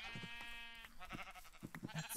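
Sheep bleating in Minecraft, a few short nasal bleats close up, the first drawn out and steady, then quicker broken calls mixed with game noises.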